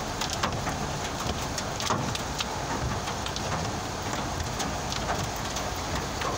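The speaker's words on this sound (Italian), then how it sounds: "Questa è la grandine maledetta che spacca via tutto ogni volta." Hail pounding down in Milan, a dense, steady roar of ice striking surfaces with scattered sharper impacts throughout, loud and continuous with no voices.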